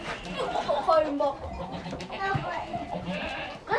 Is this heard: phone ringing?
no